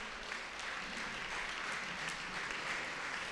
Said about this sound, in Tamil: எங்கே உற்சாகமாக கைத்தட்டுக்கு பார்ப்போம்.